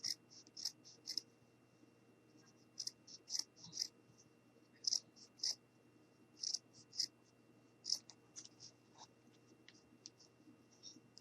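Scissors snip through fabric or felt for a quiet book kitchen page, a series of crisp close clicks in short bursts separated by quiet pauses.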